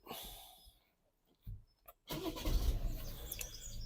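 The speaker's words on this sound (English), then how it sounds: "Start the engine" A starter whirs in a couple of short bursts, then the engine of a Vauxhall Vivaro van with a P20EE fault code catches and settles into a steady, fairly loud idle.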